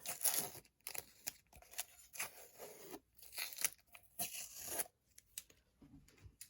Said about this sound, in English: And I'm going to take off the tape.